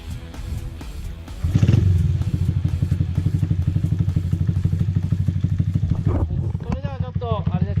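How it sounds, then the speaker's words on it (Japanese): A Honda Jazz 4mini motorcycle with a high cam, stiffened valve springs and a PC20 carburetor starts with a cranking thump, then settles into a loud, close, rapid putting idle; a voice speaks briefly near the end. "じゃあちょっとエンジン始動してもらいます"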